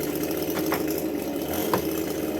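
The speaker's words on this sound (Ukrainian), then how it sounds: "Сусідська коса гудить" A neighbour's petrol grass trimmer drones steadily at a distance, a continuous mid-pitched engine hum with slight flutter and no voices.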